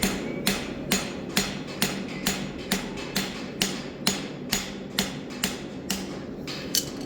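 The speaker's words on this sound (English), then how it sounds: "Now I'm just gonna hang a little bit over the edge here and scarf it for my weld." A hammer strikes a hot steel bar on an anvil edge, scarfing it for a forge weld. About fifteen sharp, ringing blows land in a steady, evenly spaced rhythm, near and alone.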